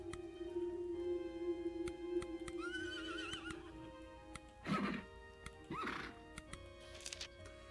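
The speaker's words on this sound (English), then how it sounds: "Horse noises ensue." Horse whinnies and neighs, a long high wavering call followed by two louder bursts, close and alone over a steady low hum with occasional knocks, no talk.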